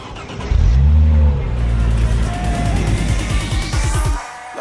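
A six-speed Mercedes C320 with a straight-piped exhaust revs hard, a loud, raspy engine note swelling and falling close by, with rising and dropping pitch sweeps and a voice speaking briefly over it.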